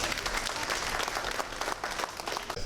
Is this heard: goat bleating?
no